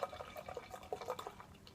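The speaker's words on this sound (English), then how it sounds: "I'm going to pour this straight down the center" Great Divide Yeti imperial stout beer pours from the bottle straight down the center of a glass, a close, quiet gurgling and splashing stream with soft bubbling, no talk over it.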